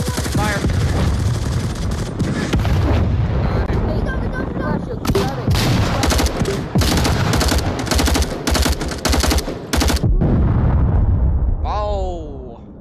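Rapid gunfire and heavy explosions from the VR shooter Onward, a dense, loud barrage of bursts and blasts running throughout, with excited players shouting over the combat.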